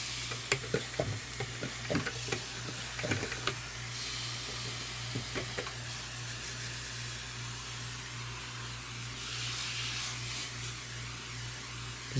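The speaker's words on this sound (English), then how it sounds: "Got my sprayer right here. Let's just get everything nice and wet." A hand sprayer wets the bedding of a mesh-roofed worm bin, giving a steady soft hiss across the whole stretch, with a few quick clicks and spritzes near the start and a low constant hum underneath.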